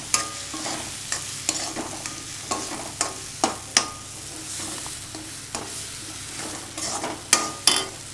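Ingredients for pulikuzhambu sauté in a pan, a steady sizzle punctuated by regular sharp scrapes and knocks of a stirring spoon, close and without talk.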